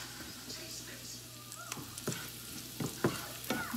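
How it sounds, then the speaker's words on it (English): Shrimp added to a pan of sautéed onion, a soft sizzle with a few stirring scrapes and clinks, fairly quiet and close, with someone talking over it. "then, if okay na yung onion, we're going to put the shrimp"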